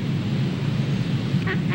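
A child imitates a duck's quack with the voice in a short burst near the end, over a busy, steady background of room noise and crowd chatter.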